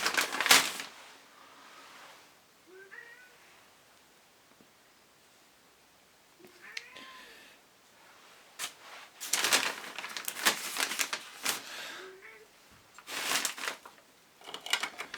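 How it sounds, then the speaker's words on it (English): A cat scratches at a door in loud rasping bursts, the heaviest coming late, with a few faint, short meows in between against a quiet room. "Cat's scratching up the door."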